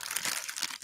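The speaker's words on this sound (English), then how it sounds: "I got a plastic bag that you can't see anything in there." A plastic bag crinkles and crunches while being handled, a close, continuous rustling with quick irregular bursts and no talking.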